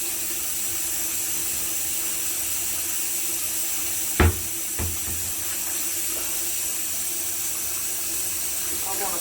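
Water runs steadily from a tap into a sink where soap is being used, a constant close hiss with one or two brief knocks partway through.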